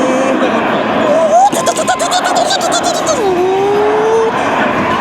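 A Ferrari engine in an arcade racing game at a game center, revving with rising and falling whine and a burst of rattling clatter, with people talking excitedly over it.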